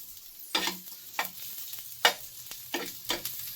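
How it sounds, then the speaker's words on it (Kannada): Salt toasting on a hot tawa griddle, stirred or scraped in several short bursts of crackling, scratchy sizzle, fairly close and alone with no voices. "ಈಗ ಉಪ್ಪು ನೋಡಿ ಚೆನ್ನಾಗಿ ಟೋಸ್ಟ್ ಆಗಿದೆ ತವ ಮೇಲೆ"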